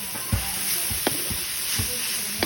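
Bitter gourd sizzles steadily in a hot pan as beaten egg is mixed in, with soft scraping stir strokes tapping through the frying hiss.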